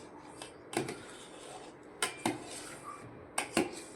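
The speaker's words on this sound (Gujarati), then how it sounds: "હલાવતા રહો." A spoon scrapes and clinks against a metal pot while milk mixture for homemade ice cream is stirred: a few separate metallic knocks and scrapes, some in quick pairs, over a quiet background.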